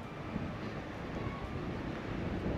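Outdoor wind buffeting a microphone, a continuous low rumbling blast with small gusty bumps, moderately loud and unbroken across the short stretch with no voice.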